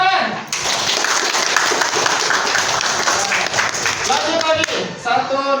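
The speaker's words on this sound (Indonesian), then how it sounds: "Tepuk tangan." A group claps hands in a classroom-style lesson, a dense burst of applause from many people that starts sharply and fades after about five seconds, with a voice speaking over the tail end.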